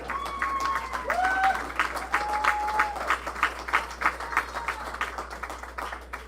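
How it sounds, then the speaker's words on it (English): Applause from a talent show audience, dense clapping running throughout with bright tonal whistles or cheers rising above it at the start, loud and close. "How about another round of applause for Michelle Fannin?"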